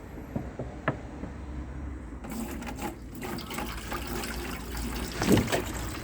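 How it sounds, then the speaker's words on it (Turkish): Water from a jerrycan pours into an open sink drain, a steady trickling and gurgling stream that grows a bit fuller toward the end, with no talk. "Ben şöyle bir bidonla suyumu dökeyim."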